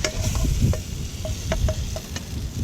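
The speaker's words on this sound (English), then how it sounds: "putting in our chopped wild garlic now into the butter. Just stir around." Chopped wild garlic fries in butter while being stirred, a close continuous sizzle and bubbling with light spoon taps against the pan.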